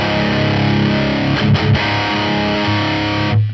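Electric guitar run through a Laney Ironheart tube amp simulation with overdrive distortion, playing dense, sustained distorted chords loud and continuous, with brief choppy breaks midway before ringing out.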